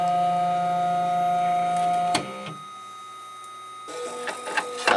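An optical lens tracer traces an eyeglass frame shape with a steady whining motor hum, then stops with a clunk and gives softer mechanical ticks and clicks, close by.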